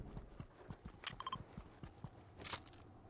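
Cardboard horses in the Fortnite video game clop with hollow, rhythmic hoofbeats through the scene, mixed with crunchy game effects and a bright whoosh near the end.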